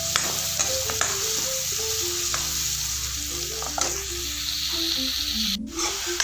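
Chicken frying in refined oil, a steady loud sizzle running throughout with scraping stirs and occasional clinks, no talking.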